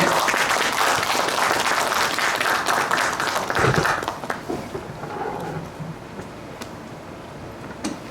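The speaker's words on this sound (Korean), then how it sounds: "큰 박수로 부탁드리겠습니다" Audience applause at a Buddhist rebirth debate in Busan, a full crowd clapping loudly for several seconds before fading into sparser scattered claps.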